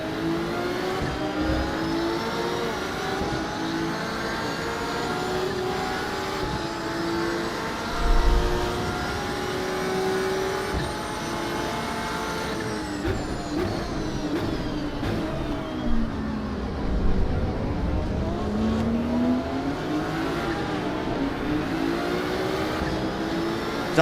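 Race car engine in Assetto Corsa Evo, with a Porsche in the field, screaming at high revs with rising and falling pitch sweeps as it shifts and brakes. It runs loud and continuous, with occasional tire squeal and no voices.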